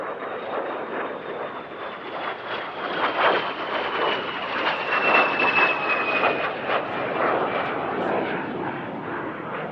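A de Havilland Vampire T-11 classic jet flies past at an airshow, its steady whining jet roar swelling and easing slightly as it passes at a distance, with no voices.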